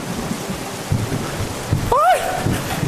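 Heavy rain pours down steadily in a thunderstorm, a loud, dense wash of noise with a low rumble and a short rising cry of a voice over it.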